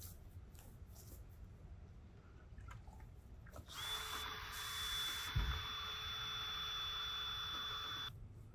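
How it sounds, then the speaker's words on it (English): A drill fitted with a paddle bit mixer churns sealer in a bucket, starting abruptly partway through and running as a loud, steady whine with a high tonal hum until it cuts off near the end, close by with no talking. "we have to hit it with the paddle bit mixer for about 2 minutes in each bucket"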